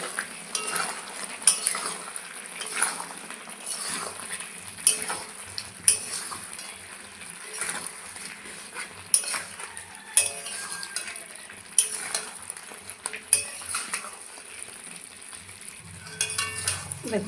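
Chili powder and cumin powder being stirred into chicken in a pan, with repeated scraping and clinking of a metal spoon against the pan over a soft sizzle, in irregular strokes throughout.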